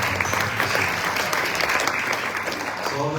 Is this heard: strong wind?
no